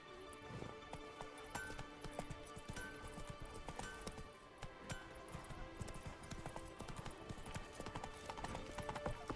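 Roach the horse gallops in The Witcher 3, a quick continuous clip-clop of hooves under a layer of game sound and music, fairly steady in loudness.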